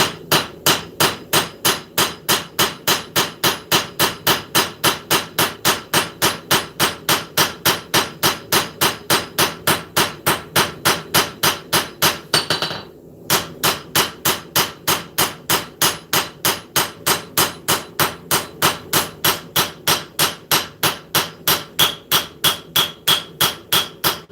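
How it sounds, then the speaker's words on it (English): A hammer forging the bevel of a knife, ringing blows struck in a fast, perfectly regular rhythm for the whole stretch, loud and close, with only one brief pause midway and no talking. "I'm going to do a little bit of bevel forging"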